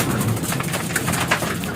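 Several racing pigeons returning to their loft give low, soft cooing close by, steady against a constant wash of outdoor background noise and with no speech over it.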